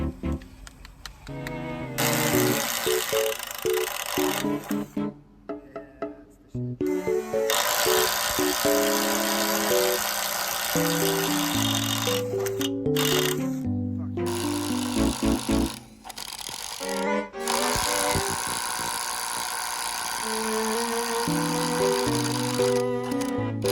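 A Ryobi One Plus cordless drill with a speed bore bit chews through material in several long, loud bursts of grinding and motor whine, separated by short pauses with changing motor pitch.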